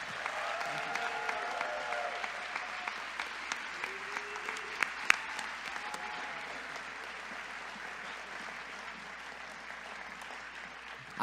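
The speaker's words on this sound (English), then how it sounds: "Can we get one more round of applause for our prize winners as they leave the stage?" A large audience at the Equator Prize 2017 ceremony gives sustained applause for prize winners leaving the stage, a broad wash of clapping with a few sharper claps and faint cheers, no speech over it.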